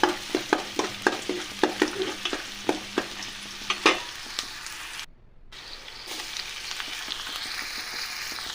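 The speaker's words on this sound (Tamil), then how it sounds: "ஒரு கடாயில் ஒரு 2 ஸ்பூன் எண்ணெய் ஊற்றி ஒரு மீடியம் சைஸ் வெங்காயத்தை பொடியாக நறுக்கி போட்டுக்கிட்டேன்" Finely chopped onion and a small tomato sauté in about two spoons of oil in a kadai, a soft sizzle broken by a regular series of sharp spoon-stirring clacks that stop midway, leaving a gentle frying hiss.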